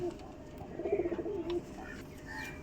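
Domestic pigeons on a farm give a short series of soft, low coos, close by and moderately quiet, over faint background noise.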